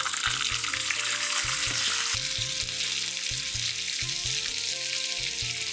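Shallots frying in hot ghee with mustard seeds, curry leaves and broken red chilies for a tadka, a loud continuous sizzle and crackle with bursts of rhythmic stirring, no talk.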